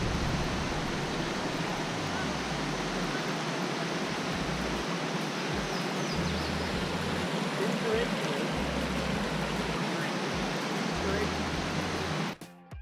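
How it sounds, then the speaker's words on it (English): A waterfall on the Falls Trail at Ricketts Glen State Park pours in a steady, dense broadband rush that stays constant from start to finish, nearby and fairly loud, with no voices over it. "Here is the first waterfall."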